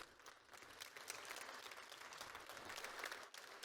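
A congress audience of irrigation community members breaks into steady, unanimous applause, continuous dense clapping from a large crowd at moderate distance with little speech.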